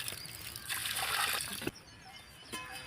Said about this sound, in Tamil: இப்போ நம்ம செடிக்கு தண்ணி ஊற்றுறோம்.